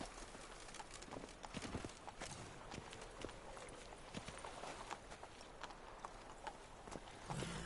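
Horse hooves clip-clop at a steady walking pace in The Witcher 3: Blood and Wine, a continuous, even rhythm of hoofbeats heard close and without talk.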